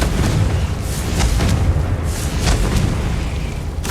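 Fiery explosions from the Confringo spell in Hogwarts Legacy, several booming blasts bursting one after another over a rumbling low background.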